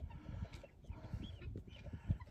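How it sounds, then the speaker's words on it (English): Hens clucking and murmuring close by, with soft overlapping calls and a few louder squawks. "Bonnie and Clyde seem to be doing okay down there with the chickens"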